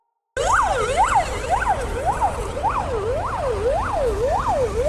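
Belarusian ambulance siren, on a Mercedes-Benz Sprinter-type van, blaring loud and close after a sudden start, a fast regular up-and-down wail repeating about eight times over a steady engine rumble.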